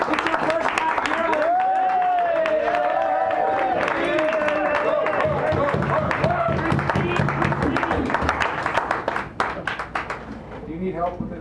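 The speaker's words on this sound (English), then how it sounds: "Give her a nice round of applause." Audience applause at a poetry reading in a San Francisco cafe, clapping under and between voices, with people talking over it and the claps thinning toward the end.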